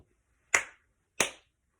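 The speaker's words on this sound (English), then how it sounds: "clap twice." Two sharp, separate claps from a group of schoolchildren, spaced about half a second apart, close and loud against silence.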